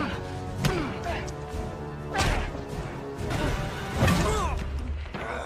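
Film fight sound effects as two men brawl in a war movie: a series of sharp smashing blows and whooshing swings land at intervals, loud and impactful over a layered musical soundtrack.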